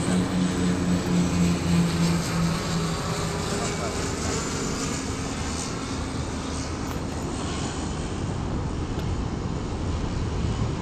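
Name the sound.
airplane engine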